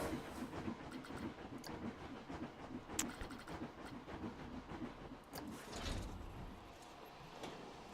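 Roller coaster train in the park-building game Planet Coaster, rolling around a corner: a steady rattling, rumbling ride noise with occasional clicks and clacks, and a heavier rumble swelling near the end. Heard alone, without talk.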